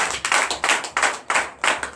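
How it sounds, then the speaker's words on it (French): Church congregation in Comè, Benin clapping in acclamation during a Sunday service, a loud rhythmic burst of hand claps with regular pulses about every third of a second, close and dense, with no talk. "Donnez l'acclamation à Jésus"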